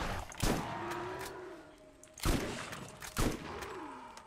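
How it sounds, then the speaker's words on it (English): Shotgun blasts in the Borderlands video game, three sharp booming shots spaced irregularly over a low background hum, each with a short decaying tail. "I think I'll take a shotgun kill."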